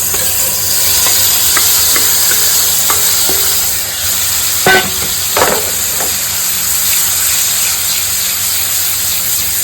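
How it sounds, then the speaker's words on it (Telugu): Prawns fry in ghee in a pan, giving a loud, steady sizzle and hiss throughout with occasional stirring clicks and scrapes, no talk. "ఓకే, మంచిగా ఫ్రై అయ్యేంత వరకు ఎంచుకోండి నెయ్యిలో."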